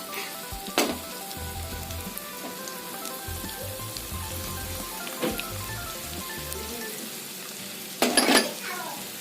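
Gravy with cashew paste cooking in a pan, a dense bubbling sizzle with a few sharp spoon scrapes and clanks as it is mixed, the loudest near the end.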